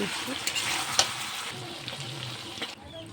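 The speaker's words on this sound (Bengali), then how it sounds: "ভালো করে কষে নিয়ে ভেজে থাকা মশলাটা দিয়ে দিলাম।" Fried spice paste stirred into meat in a hot pan, a close, busy sizzle with a few scraping knocks of the spoon, cutting off abruptly near the end.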